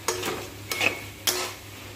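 Banana blossom sautéed with salt, Kashmiri chilli and turmeric in a pan: three brisk spatula scrapes over a faint sizzle.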